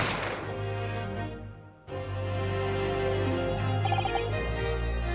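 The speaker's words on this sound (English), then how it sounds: "I didn't have time to think about where the sound of the gunshot had come from" A gunshot rings out in a restaurant in the video game The Great Ace Attorney Chronicles: a sharp burst near the start, then a sudden cut to silence before steady game music returns.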